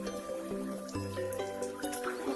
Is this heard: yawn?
no